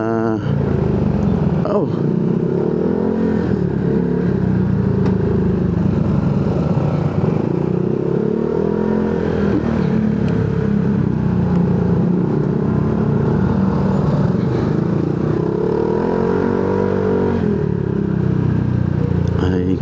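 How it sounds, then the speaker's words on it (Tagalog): A motorcycle with weak brakes drones continuously while riding in Caloocan traffic, with rising and falling revs and a voice speaking over the engine noise. "Mahina ang preno nitong motor ni Ipo"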